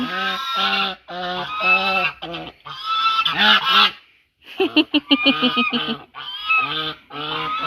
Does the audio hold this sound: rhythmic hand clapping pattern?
no